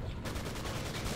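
Tank main gun firing in the tank combat video game Steel Fury, a dense rumbling blast with rolling low-end reverberation that fills the short moment at steady loudness.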